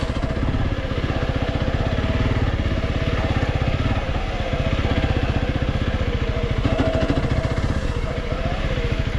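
A Honda CRF300L Rally motorcycle rides a single-track trail, its engine note steady and loud throughout with a continuous pulsing throb and some clatter, close to the microphone.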